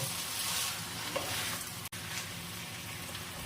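Labra, a mixed vegetable dish, being stirred in a hot pan, a continuous soft sizzle and scraping under the stirring, close and steady with a momentary break partway.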